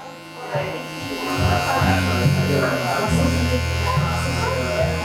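Electric hair clippers cut hair in a clipper-over-comb haircut, giving a steady close-up buzz with a strong hum that rises slightly as the blades move through the hair.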